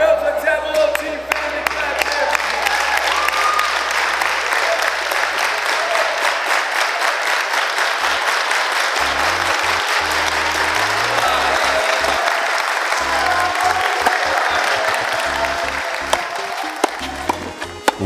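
Kids at a tennis camp, the John Newcombe Tennis Ranch, clap together in a loud, sustained burst of group applause with some cheering voices that runs the full length.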